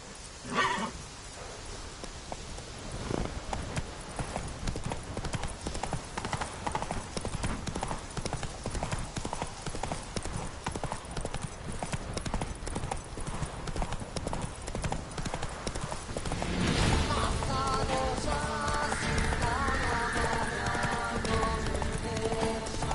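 Video game horse Roach trotting: a continuous, fairly loud, even clip-clop of hooves runs throughout under a dense game soundscape, which grows busier toward the end.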